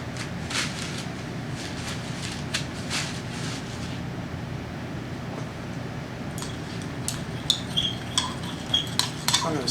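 A stirring rod works a solid in laboratory glassware, giving irregular light clinks and scraping taps, closer and sharper toward the end, with no voices.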